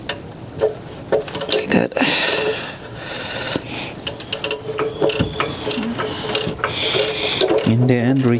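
A ratchet on a 2005 Hyundai Tucson belt tensioner clicks in quick bursts of close, metallic pawl ticks, pausing between strokes, with a single spoken word early on.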